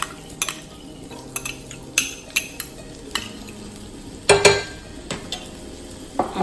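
Minced garlic sautés in a pan with butter, with a soft sizzle broken by scattered utensil clinks and scrapes, close and fairly quiet.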